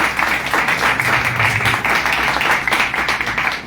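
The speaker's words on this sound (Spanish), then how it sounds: "un fuerte aplauso también para él" An audience at a book presentation in Tapachula, Chiapas applauds with steady, dense clapping for a student who was just named. The clapping stays loud and close throughout.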